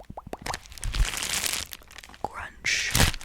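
Crinkly, crunchy material squeezed and crumpled close to the microphone for ASMR, with rapid crackling bursts, a few sharp snaps and a louder crinkle near the end, fast and busy throughout.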